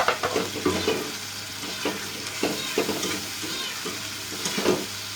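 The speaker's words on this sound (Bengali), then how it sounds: "মশলা কষানোর মধ্যে দিয়ে দিলাম" Spices fry with green chilli and tomatoes in a kadai, giving a moderate sizzle under repeated rhythmic scraping stirs all through.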